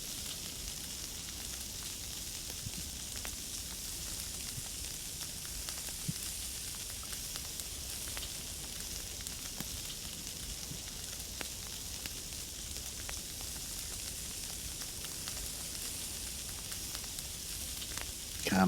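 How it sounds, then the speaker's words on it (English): Meat sizzles steadily while frying, a continuous dense crackle and hiss that stays close and even throughout with no voices. "Listen to that sizzle. Nothing sounds as good as sizzling meat."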